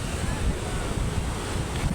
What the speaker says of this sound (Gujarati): બધા દરિયો મોજા મારવા માંડ્યું છે